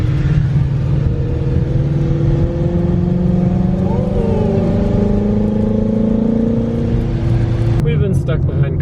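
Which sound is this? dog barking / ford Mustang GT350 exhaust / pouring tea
ford Mustang GT350 exhaust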